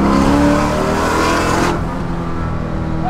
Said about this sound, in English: that's quite literally spinning the tires in fourth gear at 80 miles an hour